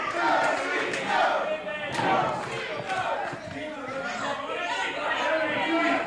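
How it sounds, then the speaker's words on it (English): A wrestling crowd in a Detroit TV studio roars and chants for the Sheik after a brawl involving chairs and a table, a dense, continuous wall of massed voices with shouted surges throughout. "Now the crowd chanting, go Sheik, go."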